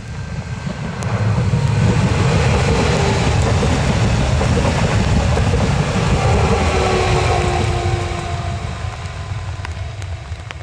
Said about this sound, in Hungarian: Páros szám vonat érkezik.